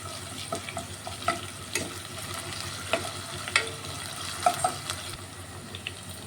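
Ginger garlic paste with turmeric and green chili frying in hot oil for a lady's finger tamarind stew, a steady soft sizzle with occasional stirring scrapes and clicks, close up, no talking.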